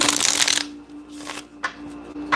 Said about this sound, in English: I'm just gonna shuffle my cards